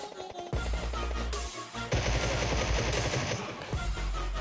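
Gunfire in the mobile battle royale game PUBG Mobile, including a Groza rifle, with rapid automatic bursts and single shots that are loud and close and heard alone without talk.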